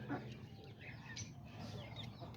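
Young roosters of the Aztecas breed cluck and chirp faintly as they scurry around nearby, a soft scattered series of short calls over a low background.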